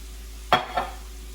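Vegetables and rice being stirred in an oiled pan, two quick scraping strokes over a soft background sizzle.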